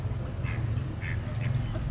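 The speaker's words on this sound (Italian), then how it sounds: "Vedete le anatre?" Several short duck quacks ring out over a steady low outdoor rumble at Lake Alleghe in the Dolomites, scattered across a couple of seconds at moderate distance.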